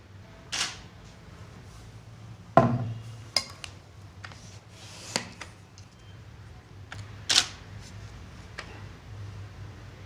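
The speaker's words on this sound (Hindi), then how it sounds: "इसका शटर का साउंड ऑलमोस्ट D850 जैसा है" A Nikon D780 DSLR fires its shutter several times, each a crisp mechanical click spaced irregularly a second or two apart, close and isolated in a quiet room.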